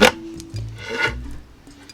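Cheap Dollar Tree hacksaw cutting wood with short, rough back-and-forth rasping strokes, close up, a few scrapes in under two seconds.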